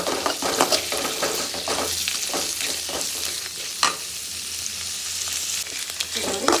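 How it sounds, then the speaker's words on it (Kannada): Paneer frying in butter in a pan makes a continuous, fairly loud sizzle, broken by a few sharper stirring scrapes and knocks. "ಬೆಣ್ಣೆಗೆ ಪನ್ನೀರ್ ಹಾಕ್ಕೊಂಡು ಫ್ರೈ ಮಾಡ್ಕೊಳ್ಳೋಣ."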